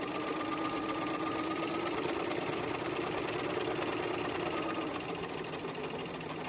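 A sewing machine runs continuously, stitching back and forth over a double fold fabric hem, with a dense, steady mechanical whir close by and no one talking.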